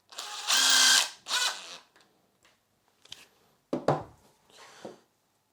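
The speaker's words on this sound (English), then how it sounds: "we're going to attach it with a countersunk screw" Power driver running a countersunk screw into a throttle handle, with a loud whirring burst, a shorter second burst, then soft scattered handling clicks and taps close by.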